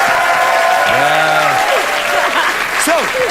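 A late-night talk show studio audience applauds steadily and loudly, and people talk and laugh over the clapping.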